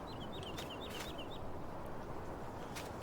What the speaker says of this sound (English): Cock-a-doodle-doos.